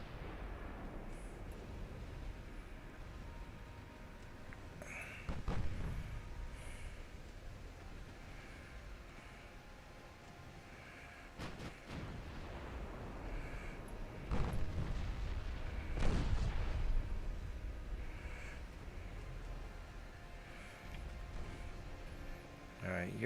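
Warship main guns firing in the Ultimate Admiral Dreadnoughts naval video game, several sharp booms spread across a steady rumbling background, under occasional talk.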